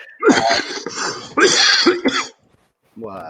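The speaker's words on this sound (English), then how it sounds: "Gotta hate it when that cough kicks up" A few harsh, throaty coughing bursts close to the mic, followed by a short pause and the start of a voice.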